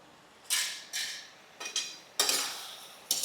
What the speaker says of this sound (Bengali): ঢাকনাটা খুলে এবার আমি একটু নেড়ে দেবো এটাকে।